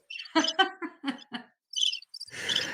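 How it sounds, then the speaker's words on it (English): Short bursts of high, chirping cricket sound effect calls, with a brief hiss at the end. "I'll just give you the crickets instead."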